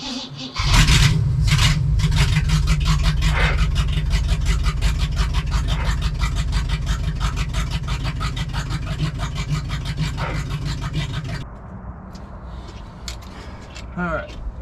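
A 1965 Chevy C20 truck engine fires up and settles into a loud, steady run that continues for about ten seconds before cutting off, with voices heard near the end.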